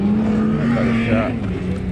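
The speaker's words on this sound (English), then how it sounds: "Whoa! Turbocharged Starlet." Turbocharged Toyota Starlet driving close by at a car meet, a loud steady engine drone with a rising note as it pulls past, continuous for a couple of seconds.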